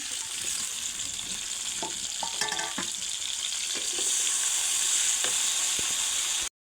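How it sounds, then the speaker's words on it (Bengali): Garlic and onion frying in hot oil in a wok give off a steady, close sizzle, with occasional clinks and scrapes of stirring. "দেখেন আমি কড়াইতে তেল দিয়ে নিয়েছি, এবার রসুন পেঁয়াজ দিয়ে দেবো"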